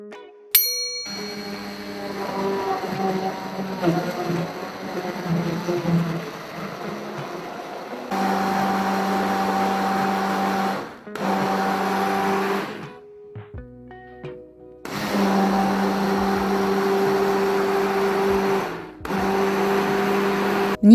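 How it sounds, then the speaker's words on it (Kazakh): A kitchen blender whirs as it purées kiwi and banana with a glass of ayran into a smoothie. The motor runs in several loud, humming bursts with short pauses between them, and nobody speaks. "Соңында жемістерге 1 стақан айран құйып, блендер арқылы 1 келкі болғанша жақсылап араластыру қажет."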